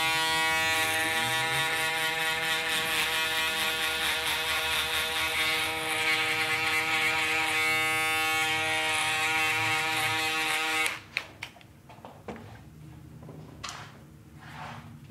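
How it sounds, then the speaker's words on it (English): Electric shaver buzzing steadily and close for about eleven seconds while trimming thick curly hair on a fade haircut, then it cuts off and leaves faint scraping and handling noises. "I start flicking down with the shaver just to eliminate any lines that I can create with the shaver."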